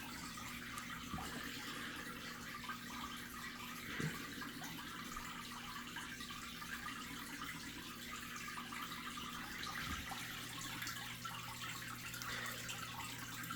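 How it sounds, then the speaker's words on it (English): Steady water flow from an Aquael aquarium filter running in a tank, a continuous broadband rush and gurgle with a few soft bubbling bursts, fairly close and alone without voices. "So that's with one filter running."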